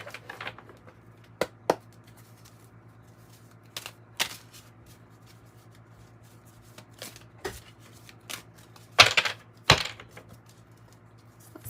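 A tarot card deck is handled and shuffled, giving sparse sharp riffles and taps spread over several seconds against a quiet steady hum, with two denser bursts of shuffling near the end.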